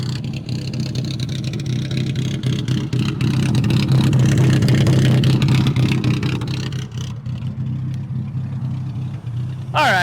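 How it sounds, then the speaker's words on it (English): A loud, steady engine roar from an engine-swapped 1979 Toyota Corolla attempting a burnout, holding a strong low drone for most of the run before easing off near the end, with no talk over it. "it doesn't do a very good burnout, but it moves"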